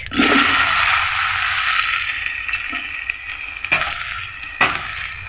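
Chopped okra (lady's finger) hits hot oil with a loud, steady sizzle that slowly eases over several seconds, with a few sharp clinks of a utensil against the pan near the end.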